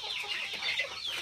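A local village rooster about four and a half months old clucks quietly in a brief burst of soft, close calls.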